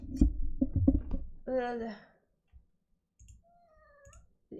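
A pet cat meows close by, with a drawn-out meow in the middle and a thinner one near the end, after a burst of rustling and clicks.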